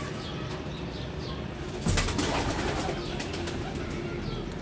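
Pigeons in a home loft, one hen sitting on eggs, give soft cooing with a sudden burst of wing flapping midway, close by and continuous, with no talk.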